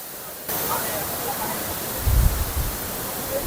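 Umkrem Falls in Meghalaya roars as a dense, steady wash of falling water that comes in abruptly and stays loud and near, with a brief low rumble midway.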